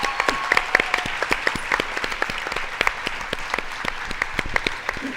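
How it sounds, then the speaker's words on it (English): An audience at a panel event applauds, a steady patter of many hand claps with sharp individual slaps standing out, moderately loud and without speech. "So if we could all give them a round of applause."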